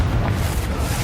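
The Confringo explosive spell from Hogwarts Legacy goes off as a loud, dense blast, a full second of rumbling, roaring burst that fills the whole moment without a break.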